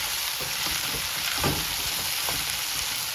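Cluster beans frying and sizzling in a pan while being stirred, a steady close hiss with a few scraping stir strokes, no voices.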